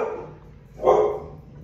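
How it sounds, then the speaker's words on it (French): A dog gives a single short bark at a distance, muffled and set against steady low background noise indoors, with no speech. "vous allez entendre mes chiens, certainement."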